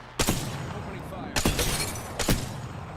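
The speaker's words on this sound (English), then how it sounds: "Sniped them a couple times" Three loud, evenly spaced sniper rifle shots in the video game Apex Legends ring out close by, each with a short echoing tail, over a steady background of game noise.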